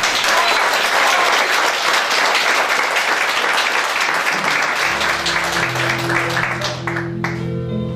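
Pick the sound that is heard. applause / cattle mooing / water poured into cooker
applause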